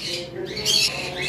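Pet lovebirds and rosellas kept for sale squawk in short harsh bursts over steady background chatter of other birds, fairly close and moderately loud.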